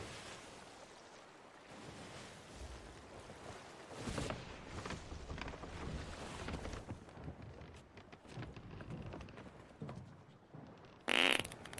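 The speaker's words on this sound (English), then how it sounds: "Fart happens" A character farts in the pirate game Sea of Thieves, a low rumbling burst amid lapping waves and wind from the sea, followed near the end by a sharp bright metallic ring.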